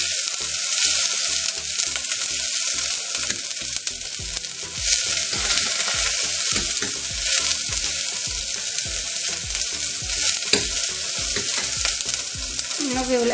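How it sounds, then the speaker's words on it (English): Onions sautéing in a pan, cooked only to soften rather than brown, for oat upma: a steady close sizzle with repeated scraping stirs of a spatula running throughout. "You don't want to brown the onions, you just want to saute the onions"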